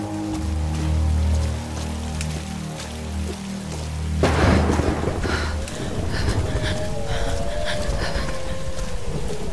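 A thunderstorm in the Tomb Raider video game: steady rain hisses over a low rumble, then a loud thunder crack bursts in midway and rolls on beneath continuing rainfall and dripping.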